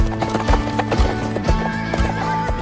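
A horse named Sundance trots in slow riding circles. Its hooves clip-clop in a quick steady rhythm, close and loud, and a long whinny runs over the footfalls.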